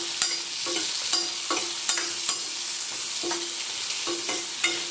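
Eggplant sautés with onion and curry leaves in a pan, a constant close sizzle broken by regular scraping stirs of a spatula, about one every half second to second.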